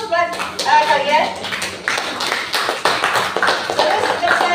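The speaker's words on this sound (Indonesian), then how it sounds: "Tepuk tangan dulu buat kalian." Children in a classroom clap their hands in a scattered burst of applause lasting a few seconds, with voices mixed into the clapping.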